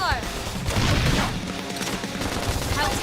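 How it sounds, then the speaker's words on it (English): Rapid bursts of gunfire and crashing impacts in the video game Xenoblade Chronicles X: Definitive Edition, a dense continuous combat barrage with voices speaking over the action. "Knock them over with gunfire!"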